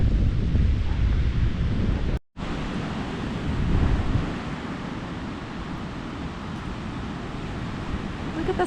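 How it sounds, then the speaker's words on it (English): Big waves crash onto the Lake Michigan beach at Indiana Dunes State Park in rain and strong wind, a loud, continuous roar of surf and buffeting wind with one brief dropout near the start. "Look at the size of these waves."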